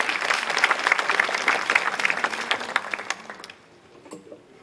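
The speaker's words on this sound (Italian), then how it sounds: "Bravi, un applauso." Audience applause for students presenting a book review at an evening literary event, a dense crowd clapping steadily before thinning out and fading near the end.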